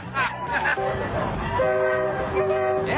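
Amtrak passenger train rolling past outdoors with rail rumble and horn-like tones, heard under people talking.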